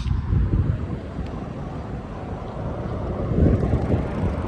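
Low, roaring wind of gusts up to 45 mph buffets the microphone outdoors during a ride in a continuous rumble, swelling and easing slightly as gusts pass, with no voices.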